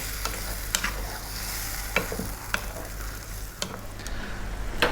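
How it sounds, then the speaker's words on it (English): Tomatoes simmering in a Middle Eastern chicken stew over medium heat, with a soft steady sizzle and occasional scraping taps of a spoon stirring the pot, quiet and close. "Stay on a medium heat and let this go now for 8 minutes. Give it a stir every now and then."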